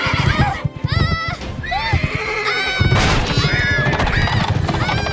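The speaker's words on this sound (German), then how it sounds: "Das Pferd erschrickt, steigt und schlägt aus. Das Gatter zerbricht und die Pferde gehen durch." In a radio play, a frightened horse whinnies loudly and repeatedly as it rears, with heavy crashing and thumping as a wooden gate breaks, all dense and close with no talking.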